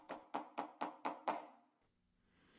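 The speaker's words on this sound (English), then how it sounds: "The police pushed me back and knocked on the door." Six firm knocks on an apartment door land in a quick, even rhythm, close and clear, then stop and leave quiet.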